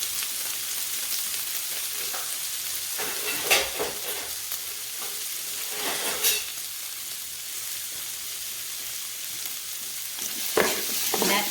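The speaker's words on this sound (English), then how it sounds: "I'm just going to go ahead and put the pork belly in." Pork belly frying with onion and spices sizzles steadily in a pan for a Filipino laing, with a few louder bursts of stirring scraping through the constant hiss; no talking.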